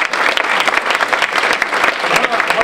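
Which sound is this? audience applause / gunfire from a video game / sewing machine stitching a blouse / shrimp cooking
audience applause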